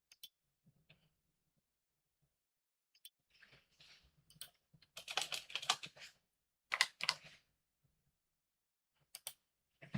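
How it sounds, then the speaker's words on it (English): Computer keyboard typing during a live futures trading session, quiet scattered clicks early, then denser bursts of keystrokes in the middle and a few isolated taps at the end. "So you already can see me typing"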